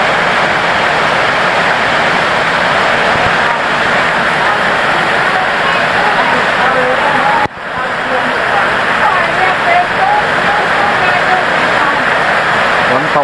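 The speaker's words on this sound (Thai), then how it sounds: "ฝนตกหนักลมแรงด้วยตอนนี้" Heavy rain pounds steadily on a surface, a dense continuous roar with strong gusty wind noise, loud and close throughout, heard from shelter at a roadside noodle shop.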